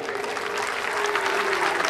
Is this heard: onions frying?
no